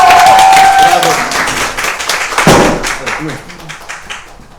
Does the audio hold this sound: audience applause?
yes